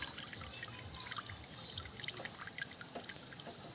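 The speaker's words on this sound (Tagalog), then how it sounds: "Tingnan nyo naman ang tulo ng tubig." Weak trickle of water from a tap at a rural home, a thin steady splashing flow with a faint hiss, close and continuous with no talk.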